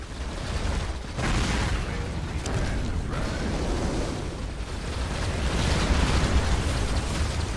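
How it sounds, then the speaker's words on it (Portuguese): Shots and explosions raining down from space during a StarCraft 2 co-op match on the Dead of Night map, a dense, continuous roar of blasts and bursts that stays loud for the whole stretch without a break. "Olha os tiros vindo do espaço, cara."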